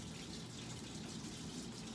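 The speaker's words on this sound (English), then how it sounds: "So I'm just going to get my sink running pretty cold water." A kitchen sink tap runs cold water in a steady, continuous stream, moderately loud and close. Nothing else is audible.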